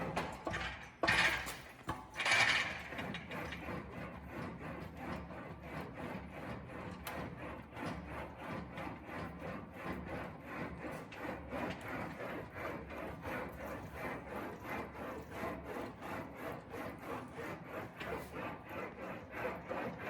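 An English wheel rolls a metal panel back and forth in short strokes of about an inch, giving a steady rapid rubbing, grinding rhythm throughout, close and moderately quiet, with a couple of louder scrapes near the start.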